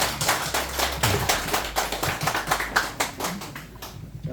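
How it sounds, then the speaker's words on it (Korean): Audience clapping at an inauguration ceremony for the incoming head of a constitution-defense group, a dense run of overlapping handclaps that holds steady at moderate loudness and thins out near the end. "여러분 다시 한번 큰 박수 한번 부탁드리죠."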